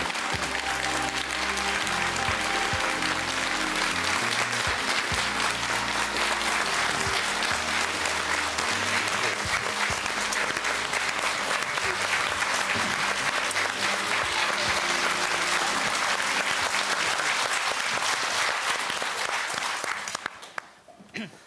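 Studio audience applauding on a Russian television talk show as guests are welcomed, a loud, dense and steady ovation that holds for about twenty seconds before cutting off abruptly at the end.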